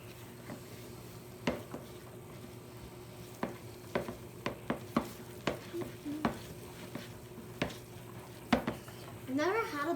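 A peanut butter mixture with melting chocolate chips for buckeyes being stirred, a faint hiss under a run of sharp spoon taps and scrapes against the bowl, with a short voice near the end.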